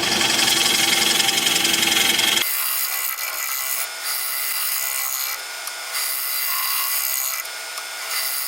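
Steel scraper with a freshly honed burr cutting wood on a turning lathe, a continuous close rasping, rubbing scrape that stays loud and steady throughout, louder and fuller in the first couple of seconds.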